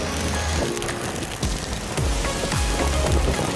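Rain from typhoon Opong pours steadily and loudly onto surfaces nearby, a dense patter with scattered heavier drips and no voices.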